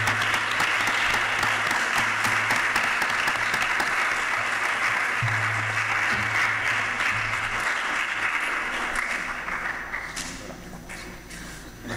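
An audience gives a full, sustained round of applause at a Spanish-language event, with dense clapping that gradually thins and fades toward the end.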